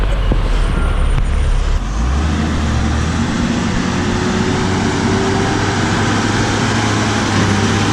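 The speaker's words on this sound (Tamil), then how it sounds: "பெரிய வண்டின்றதால ஜர்க்கும் ஜாஸ்தியாக இருக்குது, வைப்ரேஷன் ஜாஸ்தியாக இருக்குது." The big engine of a large, heavily loaded truck weighing 43,060 kg on an Indian highway drones loud and close in a steady low rumble, with a brief knock or jolt early on and continuous vibration.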